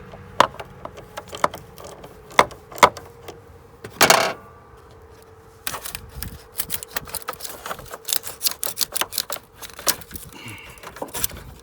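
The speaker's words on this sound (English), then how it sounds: "to remove them, all you need is a 10mm socket or a 10mm end wrench" Battery terminals on a Honda Odyssey loosened with a 10mm socket wrench: rapid ratcheting clicks in short bursts, a brief metallic scrape, then a longer run of quick close-up clicks.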